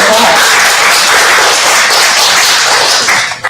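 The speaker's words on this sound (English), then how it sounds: "give them a round of applause" Loud, dense audience applause at a panel event on women, peace and security, a sustained roar of many clapping hands close by that tails off abruptly at the very end.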